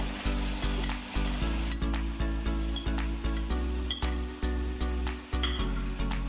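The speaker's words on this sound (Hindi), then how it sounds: "इसको अच्छे से मिक्स करना है। इसको 5 से 6 मिनट पकाना है" Chicken fries in a pot with a constant sizzle, while a spoon scrapes and stirs in a regular rhythm about twice a second. Clinks of metal ring out close by.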